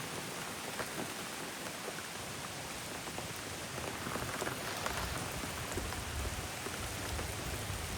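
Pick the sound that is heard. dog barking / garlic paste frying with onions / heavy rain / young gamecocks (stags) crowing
heavy rain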